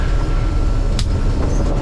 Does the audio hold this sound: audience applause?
no